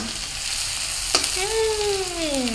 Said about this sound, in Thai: ทอดในน้ำมันเครื่องเคียงนะคะ